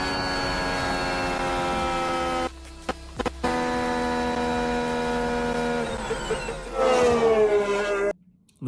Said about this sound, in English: Full throttle and the car is slowing itself down to recharge the battery.